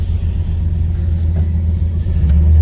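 A Chevy Caprice Brougham LS rumbles with a deep, steady low engine drone while driving, close and loud with a continuous heavy undertone and no talking.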